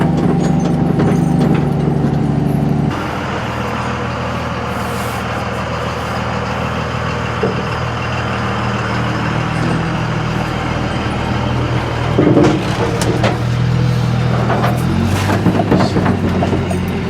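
A 1974 Ford F-700 truck pulls out of a driveway after climbing a steep hill. Its engine gives a steady, close, low rumble, heavier for the first few seconds, then settling into a continuous drone with a brief surge near the end.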